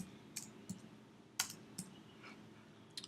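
Light, scattered keystrokes tap on a computer keyboard while zeros are entered into a 3D modelling program, about half a dozen crisp clicks at an uneven pace, fairly close and quiet.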